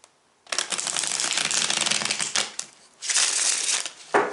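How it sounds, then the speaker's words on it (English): A deck of tarot cards being shuffled for a daily reading, with dense riffling bursts that run continuously for about two seconds, pause briefly, then resume in a second shorter burst and a final quick flick. Close and fairly loud, with no talk. "So we'll shuffle these one more time."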